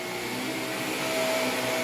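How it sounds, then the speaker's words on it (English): A vacuum cleaner runs steadily on carpet during a carpet-cleaning job for make-up and pet stains, a loud continuous motor whine with broadband airflow hiss, unbroken and alone. "This is why it pays to have a great working vacuum"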